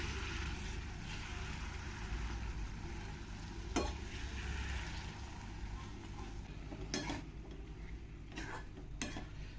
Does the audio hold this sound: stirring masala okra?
yes